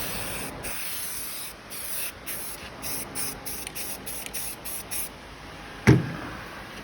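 A heat gun blows a steady, close hiss across black trim on an El Camino, with a rhythmic pulsing in the airflow and one brief louder knock near the end.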